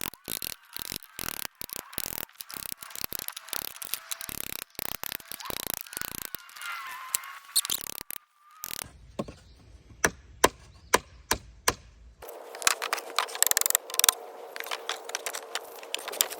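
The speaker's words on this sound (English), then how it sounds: "so I'll trim those down a little" Wooden fence pickets salvaged from a pallet are trimmed narrower, giving a run of sharp cutting and chopping knocks, then a quieter stretch of spaced clicks and a steady rough cutting noise, all close and with no talk.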